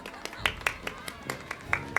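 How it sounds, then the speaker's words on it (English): Scattered claps ring out in an uneven rhythm, a small round of applause in the video game Baldur's Gate 3, over faint background murmur. "A round of applause for the stalwart heart."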